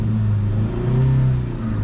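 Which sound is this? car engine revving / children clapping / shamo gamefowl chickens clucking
car engine revving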